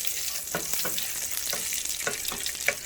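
Onion sizzles steadily in hot oil in a pan, a close, even crackle with small spitting pops and no talk.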